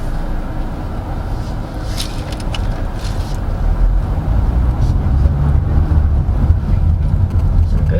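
A 2023 Hyundai Tucson diesel moves at low speed with a loud, steady engine and road rumble heard from inside the cabin, building slightly over several seconds.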